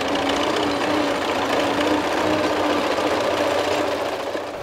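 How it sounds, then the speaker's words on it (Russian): Challenger tractor pulling a wide Bargo seeding complex across a farm field, a steady droning engine with mechanical rattle holding loud and continuous throughout, no voices. "широкозахватный посевной комплекс «Барго» трактор «Челленджер»."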